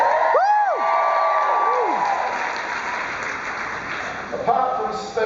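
Loud crowd of conference attendees cheering, whooping and applauding together, a dense sustained roar of mixed voices with a few rising shouts near the start and a fresh swell toward the end.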